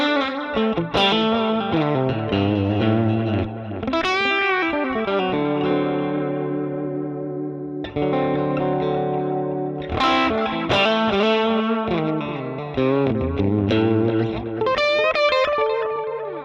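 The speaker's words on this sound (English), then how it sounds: "If we're listening in stereo, you're going to hear more of a stereo swirl kind of with it." Electric guitar played through a Line 6 Helix delay patch with wow, flutter and stereo spread, sustained chords and notes smeared into swirling, wavering echoes that ring on continuously and loudly with no voice over them.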